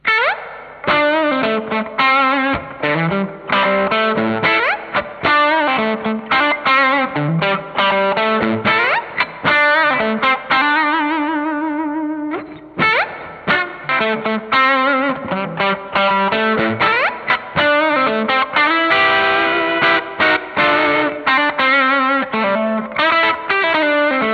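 Distorted electric guitar on the bridge pickup, with a bright, biting tone, plays a continuous lead and riff passage, loud and close, with no talking.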